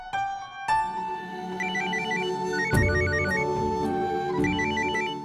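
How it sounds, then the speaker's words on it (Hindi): A mobile phone ringtone rings on unanswered, a repeating electronic melody with steady tones and periodic rising note patterns, moderately loud with no one speaking over it. "ये फोन क्यों नहीं उठा रहा है?"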